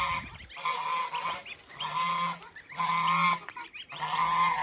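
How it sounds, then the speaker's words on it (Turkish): A male greylag goose guarding goslings gives a series of five loud, nasal honks in a steady rhythm, each call brief and close, with short pauses between them and no talking over the calls. "Gri kaz."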